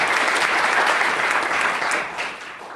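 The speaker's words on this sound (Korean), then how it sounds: "우리 토론자 여러분께 힘찬 감사의 박수 한번 부탁드리겠습니다" Audience at a Pyeongtaek Port forum and Korea Trade Society academic conference applauds the panel discussants, a dense, steady round of clapping that fills the room and eases off near the end.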